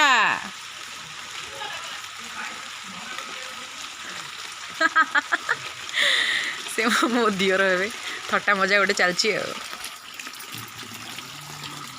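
Water runs steadily and fills a container, a continuous rushing wash heard beneath people talking throughout.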